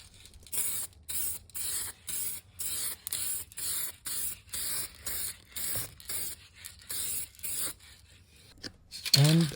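Spray can applying a coat of paint over a car rust repair, about a dozen short hissing bursts in a steady rhythm, close and fairly loud, with a brief rattle at the end.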